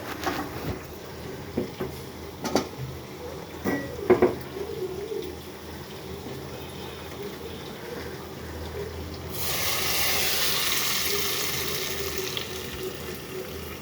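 Mustard oil in a pan with onion, garlic and dry chili; faint clinks and scraping at first, then a steady loud hiss takes over for the last few seconds.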